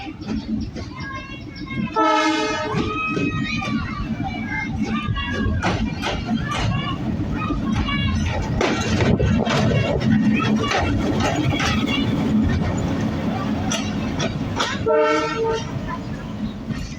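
The Tungipara Express power locomotive moving through Poradah Junction station, a loud, continuous diesel engine rumble with wheels clattering over rails and horn blasts near the start and end, while people talk nearby.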